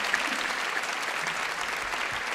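Steady, close applause from a seated audience welcoming the Quart folk dance group onstage, a continuous wash of clapping with no gaps.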